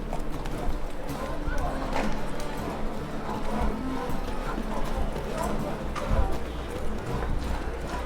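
Horse galloping in The Witcher 3 on PC, a steady run of clip-clop hoofbeats under dense game noise and music, with someone talking over it at times.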